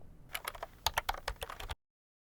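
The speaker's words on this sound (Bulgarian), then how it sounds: "като тапваме върху клавиатурата постоянно" Rapid tapping on a computer keyboard during a test of a Rode NT1 5th generation USB microphone, a short close burst of about a dozen distinct clicks that stops abruptly.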